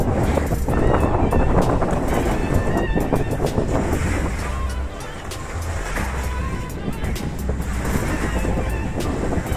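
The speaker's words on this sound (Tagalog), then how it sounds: "Punta tayo sa dating dagat para makarinig yung mga alon" Sea waves wash onto a beach with warm water, a continuous loud surf roar that swells and eases, mixed with wind noise against the microphone and people talking nearby.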